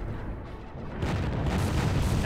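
Explosions from a real-time strategy video game battle in a 2v2 tournament match: dense, rumbling booms and crackling blasts that swell louder partway through and form a continuous, heavy barrage with no talking.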